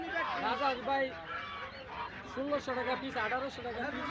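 Geese honk repeatedly at a busy Bangladeshi village market, a run of nasal, wavering calls close by with people talking over and around them.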